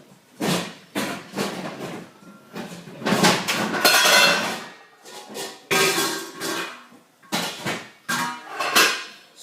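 Metal steaming pot and dish clank and clink repeatedly while being handled and set over a pot of water for cooking Trinidadian pastelles, a run of close, irregular knocks and scrapes with no talking.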